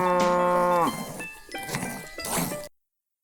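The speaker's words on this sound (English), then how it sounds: "Moo, moo, said the spotted cow as the milk squirted into the pail." A cow gives a long, loud, close moo, followed by quieter farmyard clinks and rustles.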